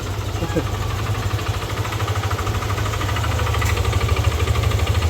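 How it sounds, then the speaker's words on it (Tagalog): A Yamaha Aerox v2 scooter engine idles steadily with a rough, rapid knocking pulse, close and continuous throughout. "Okay, so yun yung tunog ng makina ni boss."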